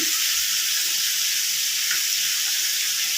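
Salted, turmeric-seasoned potatoes fry in a pan with a loud, continuous hissing sizzle, close up and unbroken throughout, with no voices.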